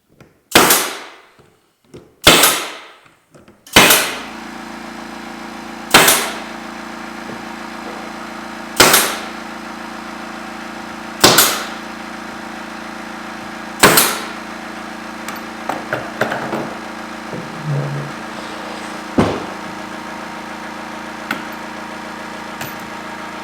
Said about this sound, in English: So now I'll just staple the bottom plywood, the 1/2 inch plywood,